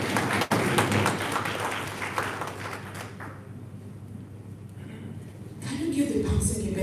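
An audience at a national council on works conference in Kano claps, a dense burst of applause that thins out and then picks up again, with a voice speaking over it.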